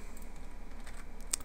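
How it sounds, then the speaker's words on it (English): Fingers roll loosely across a computer keyboard, a soft, rapid, continuous patter of key clicks close by, with one slightly sharper tap near the end. "I'm just rolling my fingers on the keyboard right now"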